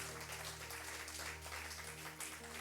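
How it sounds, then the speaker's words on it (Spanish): Church congregation clapping in a Spanish-language service, a faint, steady patter of applause mixed with soft background music. "Dele un aplauso al Señor."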